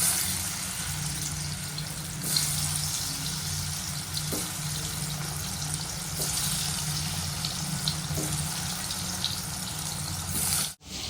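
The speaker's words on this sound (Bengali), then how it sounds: "এইখানে এবার আমি ধোকাগুলো ভেজে নেব।" Dhoka lentil cakes fry in hot oil in a pan, giving a continuous crackling sizzle with a few soft clinks and a brief knock near the end.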